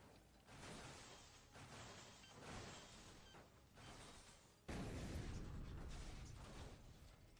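An explosion goes off in the motorcycle combat video game Road Redemption, a sudden broad blast that follows a stretch of choppy, rumbling game noise and then lingers as a sustained roar; the whole mix is quiet.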